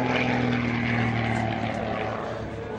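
An aerobatic propeller airplane roars low past the runway at the 1993 Reno air show, a loud steady engine drone that slowly fades as it passes.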